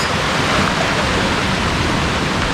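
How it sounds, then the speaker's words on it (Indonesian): A very clear river rushes loudly under a short bridge on a jungle trekking trail, a dense, steady wash of flowing water with no voices. "Di bawahnya ada sungai yang sangat jernih."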